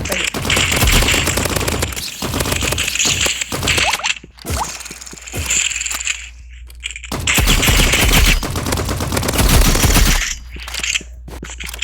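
Video game AR rifle gunfire rattles in loud, dense automatic bursts that break off briefly before resuming, close and continuous over most of the stretch.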